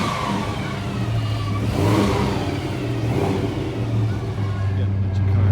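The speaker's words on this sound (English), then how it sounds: "Got a bunch of cars cruising up and down." Cars cruise along a busy street, engines humming and revving in loud swells close by, with a steady low rumble beneath and a person's voice talking over the traffic.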